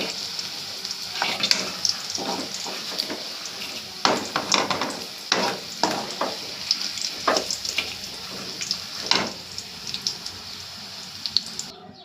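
Onions sautéing in hot oil in a pan, a steady sizzle broken by repeated scraping and clattering stirs of a spoon, close and fairly loud, with no voices.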